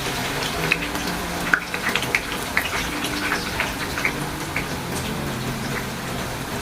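Onions frying in hot oil for beef biryani, a steady bright sizzle with scattered pops and crackles running throughout, close and fairly loud, with no talking.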